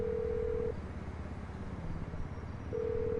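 Phone ringback tone from a call to the mechanic in GTA, a steady electronic tone that plays, pauses for about two seconds, then resumes, with faint background noise underneath.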